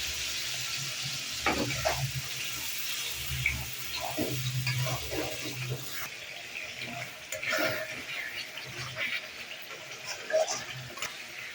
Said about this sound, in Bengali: আমার আদা রসুন পেঁয়াজ ভাজা হয়ে গেছে